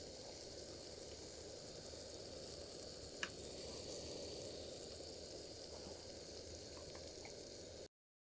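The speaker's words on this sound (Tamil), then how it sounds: "இப்போ சின்ன வெங்காயம் நல்லா வதங்கிட்டே இருக்குது" Shallots sautéing in a pan, a steady, faint, even sizzle that runs unbroken with one small click partway through and no talk.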